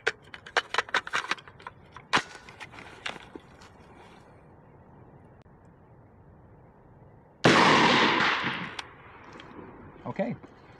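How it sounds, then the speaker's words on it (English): Ten rounds of AAC 77 grain OTM fired from a SIG MCX Spear LT rifle, a rapid string of sharp cracks, then a pause and a loud blast-like burst near the end. "That's 10 rounds of AAC out of a, well, AAC 77 grain OTM rounds out of the SIG MCX Spear LT."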